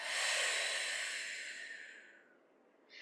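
A slow, airy breath drawn in and released during a Pilates exercise, close and soft, with the long exhale fading toward silence before the next intake begins.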